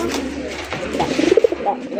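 A young male pigeon, a fresh nine-feather cock, gives a short run of rhythmic throaty coos close by, with faint voices in the background.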